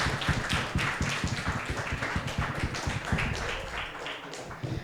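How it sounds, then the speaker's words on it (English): Audience applause for both teams at an upper secondary school debate championship final: a steady, moderately loud patter of many hands clapping throughout, with no speech over it. "let's give a round applause for both teams"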